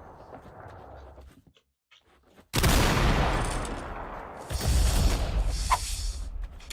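A golden musket fires in a video game, a sudden loud booming blast after a brief quiet, followed by a second heavy report trailing into a rumbling decay.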